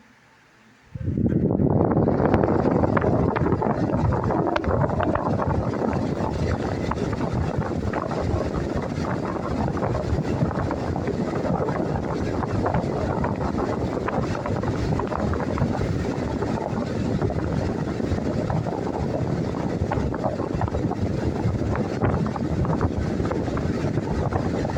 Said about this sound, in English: now we're going to check the Western Harmonics fan